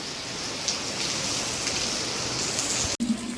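Heavy rain pours down in a steady, dense hiss close by, constant throughout, with one brief break near the end.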